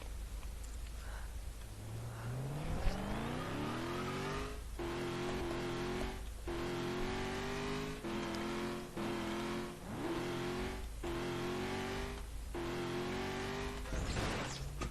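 Car driving in a video game, engine note repeatedly revving up through the gears and dropping on each shift, a loud continuous synthetic motor with a crash-like burst near the end.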